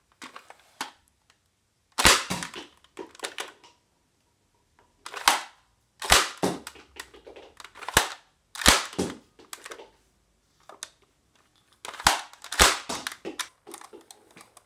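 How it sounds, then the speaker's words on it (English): A Nerf Modulus toy blaster fitted with the tri-strike mega barrel fires in a series of sharp snapping shots, each followed by a brief mechanical rattle, spaced irregularly over about fifteen seconds, close up and without speech. "So, the firing demo."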